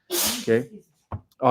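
A single sharp, breathy sneeze bursts out at the start, with brief spoken words following close after.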